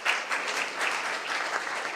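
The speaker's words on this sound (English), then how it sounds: "Please give a round of applause." Brief burst of audience applause, many hands clapping together at moderate volume for a couple of seconds.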